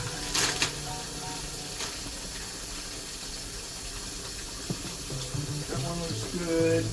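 Hot water runs from a kitchen tap during preparation of instant curry laksa noodles. It is a steady hiss that carries on the whole time, with a few brief clinks and knocks over it.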